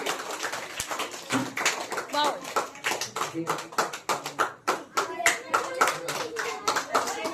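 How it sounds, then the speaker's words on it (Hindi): At a school's annual prize-giving ceremony the audience bursts into loud, uneven clapping, sharp hand claps in irregular bursts, with voices, including children, mixed in throughout. "एक बार अपने लिए जोरदार तालियां, अपने खुद के लिए"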